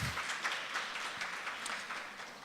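Audience applause for philosopher Kang Shin-ju at a live lecture event, a soft, fairly distant and steady patter of clapping with almost no voices.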